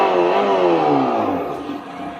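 An EVSMA-1 EV sound module on an electric motorcycle plays a simulated engine rev, a loud synthetic engine note that climbs and then falls away over about two seconds, with harmonic whine and no voices.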